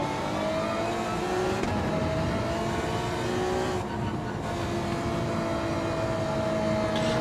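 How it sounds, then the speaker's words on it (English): A Gr. 2 race car engine revs hard and continuously in a racing video game, a loud, steady drone with shifting pitch and no voices. "Bit of a backfire from Big Popper's car then."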